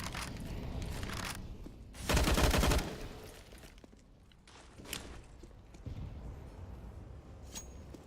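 Rifle fire in a Counter-Strike esports match, where the AUG is in play, comes as a short, sharp burst of rapid shots amid faint footsteps and scattered quieter shots in the distance.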